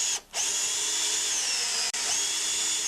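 A power drill runs steadily, backing out long screws from a snowblower's electric starter, with a brief stop near the start and a sharp momentary cut near the two-second mark before the whine resumes.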